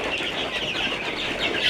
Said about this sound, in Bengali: মিশরীয় অরিজিনাল ফার্মি মুরগি